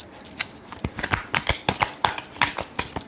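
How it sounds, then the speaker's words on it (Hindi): Tarot cards are shuffled close up in a run of quick, crisp riffling flicks and slaps, rhythmic and fairly loud, with no speech over them. "Last shuffle."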